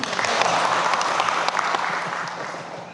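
An audience applauds at a creative-economy ceremony in Samarinda, a steady, dense crowd clapping that holds loud throughout before easing slightly at the end.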